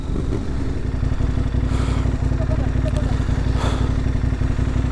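An off-road motorcycle engine drones loud and close with a steady throbbing pulse, holding a constant roar as the rider shifts up, with wind buffeting over it and a voice speaking underneath.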